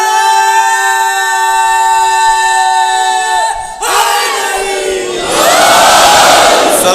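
A congregation at a religious gathering chants a slogan in unison, a loud, sustained collective shout that swells in waves, preceded by a held tonal note.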